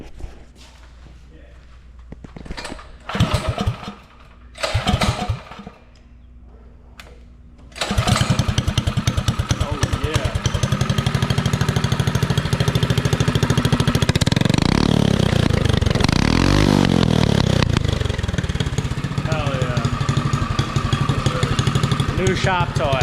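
A new ATV engine cranks in short bursts, then catches and roars into loud revving with rising and falling throttle swells, with people talking over the early attempts.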